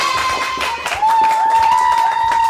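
A studio audience claps to welcome a music group, a burst of scattered hand claps heard at moderate distance over a steady tonal hum.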